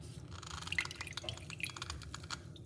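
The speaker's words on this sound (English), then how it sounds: "I'm going to squeeze half a lemon into the cup like this" Juice from half a lemon drips and trickles into a cup, a faint, close run of small wet drops and splashes.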